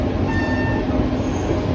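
NKP 358 steam excursion train rolling steadily along the tracks, a continuous close rumble of railcars with a faint high wheel squeal drifting over it throughout.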